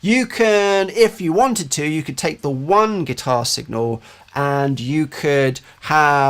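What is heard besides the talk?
No everyday noise stands out behind the speech.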